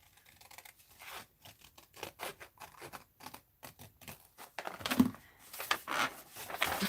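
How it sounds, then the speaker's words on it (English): Old household scissors snip through paper in a string of quick, close cuts, crisp clicks and rustles coming in uneven bursts that grow a little busier toward the end, with no voices. "I'm just using my old scissors."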